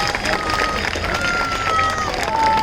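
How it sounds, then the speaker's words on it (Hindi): A rally crowd at Azad Maidan, Mumbai, applauds steadily to welcome three farmer leaders from the Samyukt Kisan Morcha. The clapping is a dense, continuous wash mixed with crowd murmur, with no pause across the clip. "जोरदार तालियों के साथ उनका स्वागत हो जाए।"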